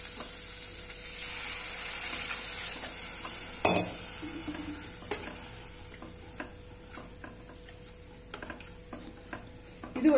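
Water is poured into a pan of lentil dumpling curry (paruppu urundai kuzhambu) seasoned with salt and chilli powder and then stirred. One sharp splash is followed by steady sizzling and soft scraping and clinking, with no talking.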